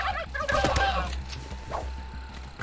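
A turkey in How to Survive 2 gobbles in quick rattling bursts over a constant low game hum, with a few fainter clucks trailing after.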